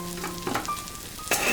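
Onions and garlic sizzle and fry in a pan with a steady hiss, and a utensil stirs them with a few scraping knocks, close and moderately loud with no talking.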